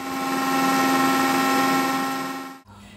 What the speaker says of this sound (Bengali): এখন আমি সসটা ব্লেন্ড করে নিচ্ছি।